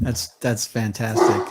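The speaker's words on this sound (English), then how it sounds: "Sorry, that was my dog barking." A pet dog barks several times in the background of a home interview, short sharp barks in quick succession, partly overlapping someone speaking.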